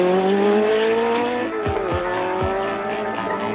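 A 1984 Peugeot 205 Turbo 16 rally car, rated at 340 horsepower, roars loudly past on tarmac, its engine note climbing, with a few sharp tire chirps and skids midway.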